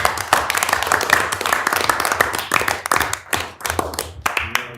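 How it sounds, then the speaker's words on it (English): A room of people clap their hands in a round of applause, a dense run of sharp, close hand claps that thins out toward the end, with a few voices faintly mixed in. "So I want to just give everybody a round of applause."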